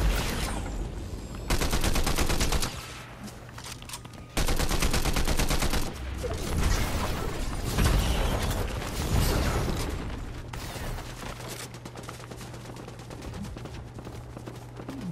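Gunfire in Fortnite: bursts of rapid automatic fire alternating with single shots and mechanical clicks, loud and close, continuing through most of the stretch.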